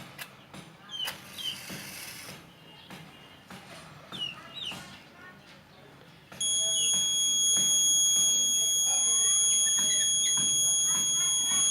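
A buzzer on a homemade breadboard automatic fire alarm sounds partway through, a loud, steady, high-pitched continuous tone that follows a stretch of talking and room noise.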